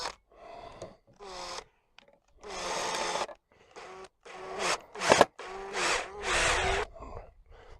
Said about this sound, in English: put that first screw into its hole.